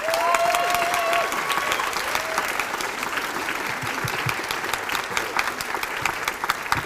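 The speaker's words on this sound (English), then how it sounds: "Everybody clap it up for Brittany Young." A crowd at a placemaking week event claps steadily and fairly loudly for a speaker being welcomed to the stage, with a brief voice and a faint whistle-like tone over the start.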